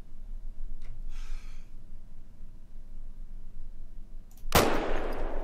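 A single loud rifle shot at a deer in the hunting game theHunter: Call of the Wild, a sharp broadband crack near the end following a quiet stretch of faint ambient sound.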